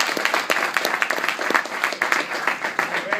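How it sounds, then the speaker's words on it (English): Audience at a Chesapeake water quality trading press conference gives DEQ officials a round of applause, close, lively clapping with distinct individual claps standing out throughout. "give them a great round of applause"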